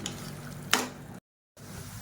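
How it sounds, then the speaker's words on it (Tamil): Masala and vegetables sautéing in a pan for biryani, a steady close sizzle with a brief sharper stirring scrape, then a short cut to silence before the frying resumes. "இது வந்து நல்லா வதக்கி விட்டுக்கலாம்"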